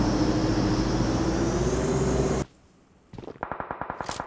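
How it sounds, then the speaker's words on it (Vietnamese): Gunfire in the battle royale game PUBG Mobile: a steady loud engine drone cuts out, then a rapid string of sharp shots rings out in quick succession, fairly close and with nobody speaking. "Đó, có tiếng súng nè."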